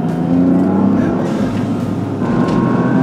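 Toyota GR Yaris engine revs up toward high RPM, a loud, steady, close-up drone with rising tonal harmonics and no speech.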